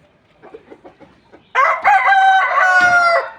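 A few soft hen clucks, then a loud, close rooster crow that runs long and strained, with more clucking mixed in under it.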